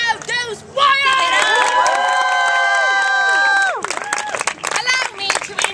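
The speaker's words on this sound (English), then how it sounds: "And the crowd goes wild!" A crowd at a spring renaissance faire stage show cheers wildly, loud shouts and screams swelling into a sustained roar with claps, then breaking into scattered whoops and yells.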